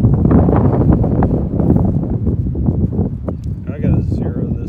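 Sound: wind blowing on the microphone outdoors

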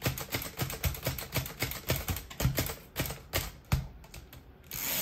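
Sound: typing on a vintage typewriter

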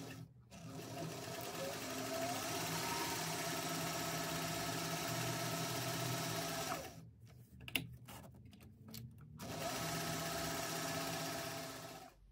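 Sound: sewing machine sewing a zip on a bag

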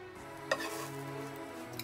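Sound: egg mixture sizzling in hot oil in pan

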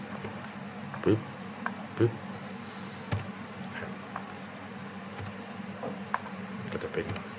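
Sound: mouse clicking on computer

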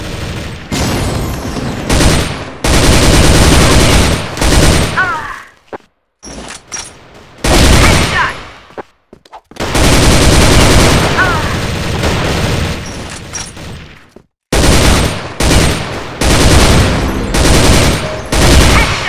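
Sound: FN M249 Minimi machine gun fire in Crossfire video game

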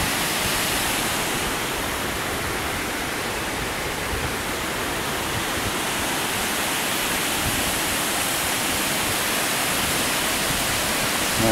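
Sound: water flowing over old Ware Shoals dam, Saluda River

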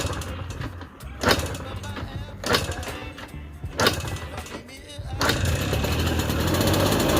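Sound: TVS XL moped engine being kick-started

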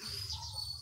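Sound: birds chirping outdoors

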